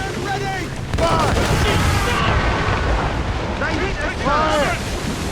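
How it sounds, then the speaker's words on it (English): Broadside cannon fire from warships in Assassin's Creed Rogue: a dense, sustained roar of booming shots and rumbling impacts, with crew voices shouting over the battle. "Cannon ready! Fire!"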